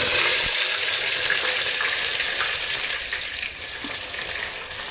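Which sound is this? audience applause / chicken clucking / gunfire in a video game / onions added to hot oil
onions added to hot oil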